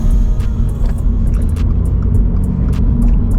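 A car accelerating onto a highway on-ramp, a loud steady engine and road rumble close inside the cabin with a constant low drone and no talk.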